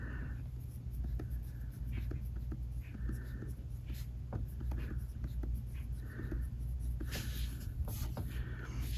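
A Uniball ink pen writes on Day Designer planner paper, giving quiet, close, scratchy strokes in an irregular rhythm of short taps and longer drags over a low steady hum.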